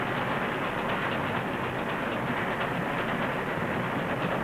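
Train running in a dubbed cartoon: a steady, dense rushing rumble of a moving train continues unbroken at an even loudness throughout, with no talking.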